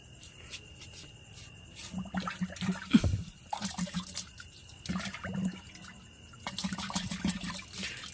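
Fertilizer is poured and mixed into water for dragon fruit plant care, giving splashing, swirling liquid sounds in uneven bursts, with a stronger gush near the middle and quieter stirring before and after.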